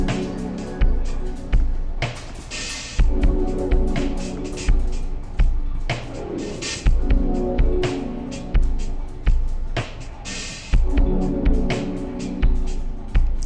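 A chill trip hop drum tune built from a resampled drum break plays, with a steady, evenly spaced beat of punchy kicks and snares, loud and close, carrying sustained melodic tones underneath.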